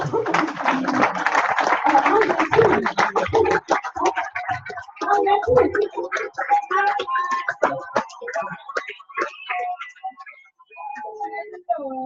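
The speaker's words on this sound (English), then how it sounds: "can I please ask you to give them a round of applause?" An audience at a live session gives a round of applause, dense clapping at first that thins into scattered claps and fades over several seconds.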